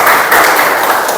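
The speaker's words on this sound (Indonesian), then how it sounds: "Tepuk tangan buat kita semua." Applause from a classroom of students clapping for everyone, a dense steady patter of many hands that stays loud and even for the whole moment.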